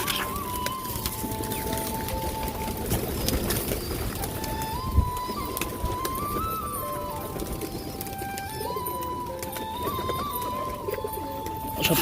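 Pigeons coo softly while feeding, a few low repeated calls under faint background chatter and light scuffling.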